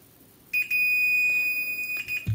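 Sustained electronic beep from a multimeter on continuity test while probing an 18V Ridgid Hyper Lithium battery pack, one long steady tone with a brief break, close and clear, no talking.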